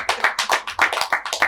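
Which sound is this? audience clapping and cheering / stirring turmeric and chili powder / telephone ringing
audience clapping and cheering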